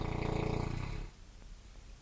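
A person snoring nearby in a dim room, with heavy, rumbling breaths that fill the first second before dropping away to a quieter background hum.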